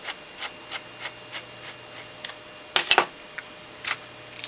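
Screws being undone from the back of GHD 5.0 Gold Series hair straighteners, with soft repeated scraping and rubbing taps up close, then a brief cluster of sharper clicks and rattles near the end.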